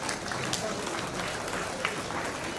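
Audience applause at a government appointment letter ceremony, steady dense clapping from a large crowd throughout, fairly distant and even in level.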